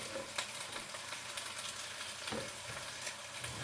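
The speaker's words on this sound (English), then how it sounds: "I'm going to sear them a little bit, mix them really well, and then I'll cover it and let it just cook" Large chunks of chuck roast searing in a pan for New Mexico red chile produce a dense, close sizzle, with soft scraping and stirring strokes rising and falling across it.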